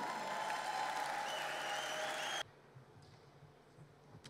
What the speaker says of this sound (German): darum holen wir sie mit einer grossen Begeisterung und einem feinen Applaus auf die Bühne